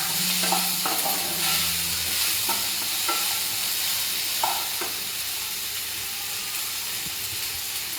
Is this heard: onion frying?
yes